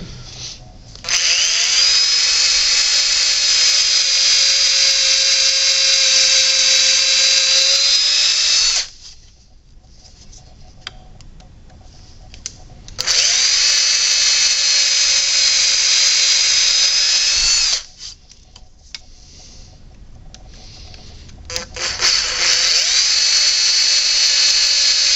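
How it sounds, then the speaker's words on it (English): A power drill bores pilot holes in the metal of a machete held in a vise, running in three long steady whining bursts separated by short quiet gaps. "I think I'll try to get it in this vise somehow and pre-drill those holes."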